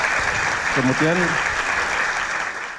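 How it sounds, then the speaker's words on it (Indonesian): Applause from an audience at a talk show honoring Desa Kandangan, a steady broadband patter filling the clip while a voice speaks briefly over it. "Tepuk tangan untuk Desa Kandangan."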